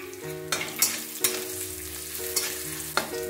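Curry leaf tempering sizzling hard in hot oil as turmeric and salt are added, a loud, close, steady crackle broken by a few scraping stirs, with no voices.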